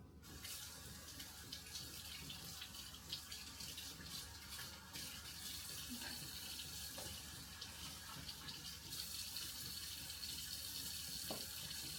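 Running water pours from a sink tap as an item is rinsed off after strawberry jam canning, a continuous faint splashing hiss with small clatters.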